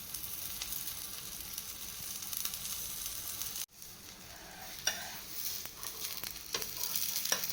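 Cabbage chilla crisping in an oiled pan gives a steady, close sizzle and frying hiss, with a brief dropout partway through and light scraping and stirring sounds returning afterward.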